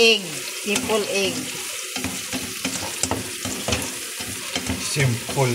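Scrambled eggs cooking in a pan make a soft sizzle broken by repeated scraping and stirring strokes from a utensil, close up, with some faint voices in the background.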